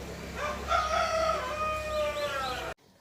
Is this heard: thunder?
no